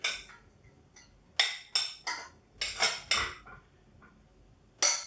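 A spoon mixes chopped parsley, preserved lemon, olives and peanuts into a bulgur wheat salad, giving a series of sharp clinks and scrapes against the bowl in uneven bursts, with no talking.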